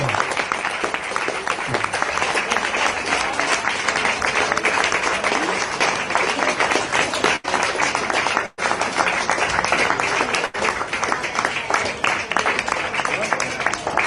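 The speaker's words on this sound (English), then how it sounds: "So can we just have a very big round of applause for Chris, Jenny, Miles and Phil." Loud, sustained applause from a crowd, dense clapping that continues steadily without a break.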